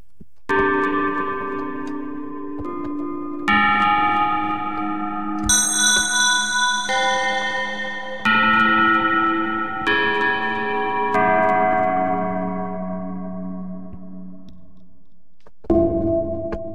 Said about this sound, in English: I love bell sounds.